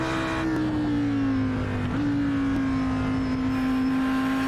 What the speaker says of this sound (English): Yeah, the car is cutting out.